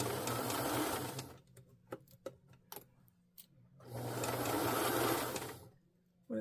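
A domestic sewing machine, used on a beginner project, runs in two loud steady bursts of stitching separated by a quieter stretch of scattered clicks and taps, the second run stopping abruptly when the thread breaks.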